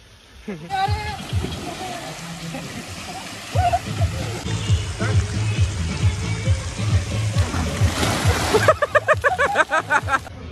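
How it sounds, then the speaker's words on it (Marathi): Jumping and splashing into a pool at Chakur's Vrindavan water park, with repeated splashes and sloshing water close by, mixed with shouting voices and crowd noise throughout. "तर चला चला टाका पाण्यात उडी।"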